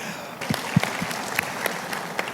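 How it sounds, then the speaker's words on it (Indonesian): Scattered applause at a televised event with political candidates, sparse, irregular claps from a modest crowd, moderately loud, with no voices over them. "Tepuk tangan untuk kita semua, tepuk tangan."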